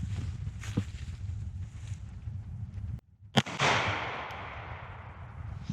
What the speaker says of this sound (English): All right, I'm gonna shoot it again, see if it falls this time.